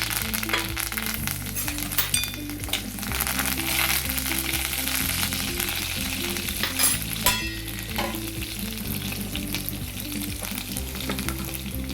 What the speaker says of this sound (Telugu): నూనె ఇది అవుతుంది కదా, ఇదిగోండి ఆవాలు జీలకర్ర, ఎండుమిరపకాయ, కరివేపాకు అన్నీ దీంట్లో వేసుకుంటాం